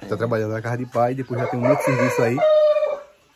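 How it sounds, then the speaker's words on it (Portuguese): A rooster crows on a rural smallholding, its call rising and holding for a few seconds while someone talks over it nearby. "Olha o galo cantando."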